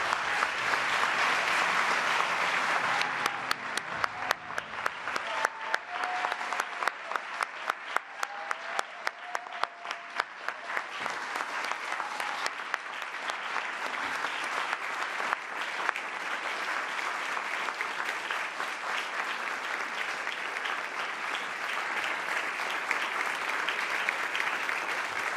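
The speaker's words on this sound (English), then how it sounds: "Please join me in a round of applause for all of our awardees." An audience at an awards ceremony honoring African women for courage breaks into loud, sustained applause, a dense wall of clapping that starts sharply and carries on evenly for about twenty seconds.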